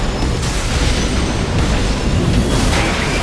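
Artillery shells burst in a continuous low, rumbling roar of explosions in Armored Core 6 mech combat, loud with no talking.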